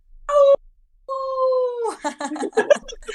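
A cat meows close by, one short cry and then a longer drawn-out meow, followed by chattering sounds that may be a voice.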